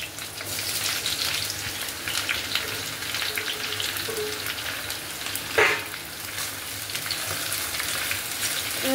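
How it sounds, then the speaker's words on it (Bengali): Onions fry in rendered mutton fat in a pan with a steady, crackling sizzle heard up close, broken by an occasional stir and a brief scrape near the middle. "পেঁয়াজটা ভেজে নেবো ভালো করে।"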